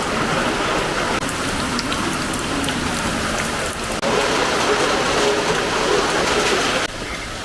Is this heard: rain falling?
yes